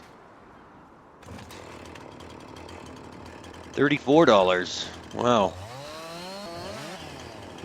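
In Farming Simulator 19, a chainsaw cuts wood with a steady mechanical drone starting after a second of quiet, while someone speaks briefly over it.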